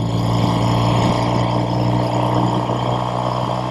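A 1969 Triumph Daytona 500 motorcycle rides along a road in fourth gear, its engine giving a steady, loud, droning hum with a constant exhaust note throughout.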